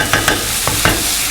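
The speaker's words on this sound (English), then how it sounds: "Give that a stir." Brussels sprouts and meatballs sizzle loudly in a frying pan while a utensil makes several short scraping stirs.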